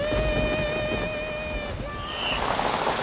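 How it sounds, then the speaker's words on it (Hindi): Heavy rain pours steadily during a thunderstorm, a dense close wash with a faint tonal hum over it in the first half. "लगता नहीं है बारिश आज रुकेगी। वो थंडरस्टॉर्म देखा"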